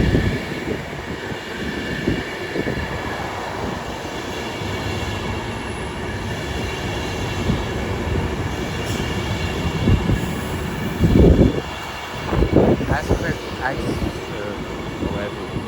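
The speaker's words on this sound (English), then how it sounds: "Soon to arriving now is the 11:31 Avanti West Coast service from London Euston to Clapham North via Birmingham Street, 390 103." Avanti West Coast class 390 train arriving at Watford Junction, a loud, sustained rolling rumble with wheel squeal and bursts of clattering toward the end, with announcements and voices faintly underneath.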